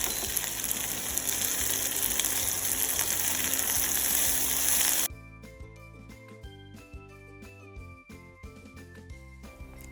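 Okra with garlic sautés in a pan with a dense, steady sizzle that runs for about five seconds and then cuts off. Tonal background music takes over after that.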